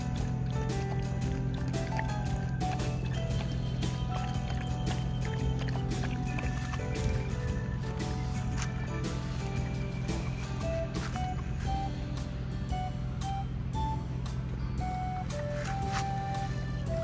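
A dog laps water at a dog run at a highway service area, giving steady wet licking and splashing sounds close by over constant outdoor background noise.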